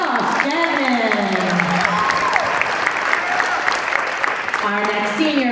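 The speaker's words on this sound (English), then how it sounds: "Can you please give a big round of applause for Josh Gannon?" A high school wrestling senior night crowd claps loudly and continuously in a gym, a dense wash of applause with a voice speaking over it and rising tones above the clapping.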